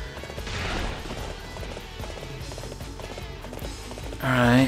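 Horse galloping in the Dynasty Warriors 8 video game, a steady rapid drumming of hooves with crashing hits and battle noise throughout, ending in a louder burst of sound.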